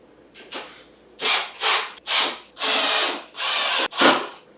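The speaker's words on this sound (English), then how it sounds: "using something with a little drill, electric drill, is a little bit faster" Several short bursts of an electric drill whirring into wood, spinning up and stopping with brief pauses between, close and fairly loud.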